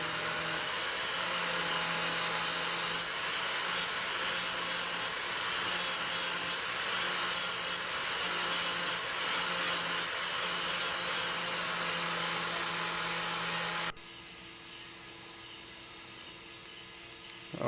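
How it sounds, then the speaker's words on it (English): An angle grinder works steel on a knife being restored, a loud continuous high whine with grinding hiss that holds steady, then drops to a lower, quieter spin as the cut eases off. "I always have a firm grip on an angle grinder."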